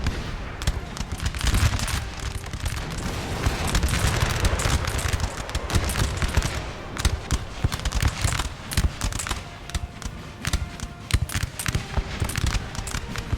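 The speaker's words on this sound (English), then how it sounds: "Who are they shooting at?" Massed musket gunfire from line infantry in a Napoleon: Total War battle, a dense unbroken crackle of overlapping shots with sharper volleys standing out near and far across the whole stretch.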